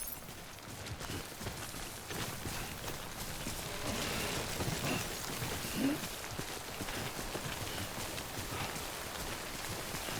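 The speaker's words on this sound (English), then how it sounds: "Don't stay out in the rain any longer than you have to." Timefall rain in Death Stranding falls as a steady, dense hiss with scattered patter across the whole stretch, fairly even in level and without speech.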